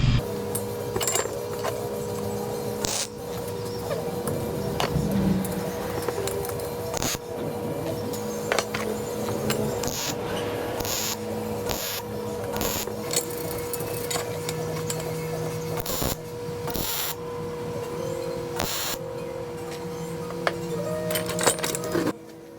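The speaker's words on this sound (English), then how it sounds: "So we're going to put it together and weld it in just like that." An O2 sensor bung is welded onto a steel exhaust pipe for a fuel injection setup, with close, steady buzzing and crackling from the welder broken by short pauses and occasional clicks, and no talking.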